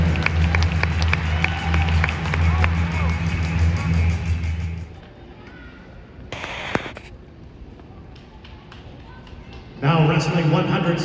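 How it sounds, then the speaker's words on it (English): Crowd at an Oklahoma State orange-and-black wrestling ranking match applauds and cheers loudly for two wrestlers, then the noise drops away to a quieter arena before another loud burst returns at the end. "a big round of applause for both of these wrestlers."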